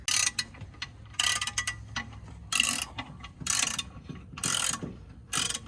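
A hand ratchet tightens a torque converter bolt in a garage, with bursts of rapid clicking repeating in a steady rhythm, each pass followed by a short pause, close and fairly quiet.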